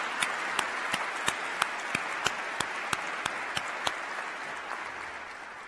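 Audience applause for elected officials and county leaders at an inauguration ceremony, with sustained hall-wide clapping and a few sharp, louder claps standing out, no talking over it.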